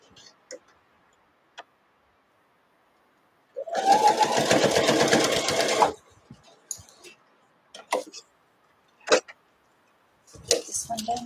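A home sewing machine stitching fabric: a single two-second run of fast, even whirring ticks, set among short clicks and quiet handling noises.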